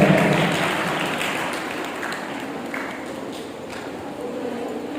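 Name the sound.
audience applause welcoming a poet at a mushaira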